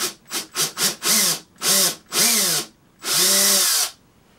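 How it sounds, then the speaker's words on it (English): A power drill with a 1/16 drill bit bores holes for a back door on a Robotron mini cabinet, whirring in loud close bursts: several short quick pulses, then longer sustained runs with pitch rising and falling. "So we're using a 1/16 drill bit here."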